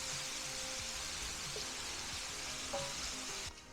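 Bacon fries in an oiled pan with its fat rendering out, making a steady, soft crackling sizzle. A few light pops and clicks sound over the continuous hiss.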